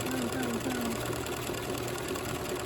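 A sewing machine runs steadily, stitching a landscape fabric postcard with a continuous, even mechanical whir that holds at close range without pausing.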